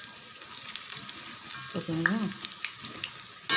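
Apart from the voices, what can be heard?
mint pakoda frying in hot oil in iron pan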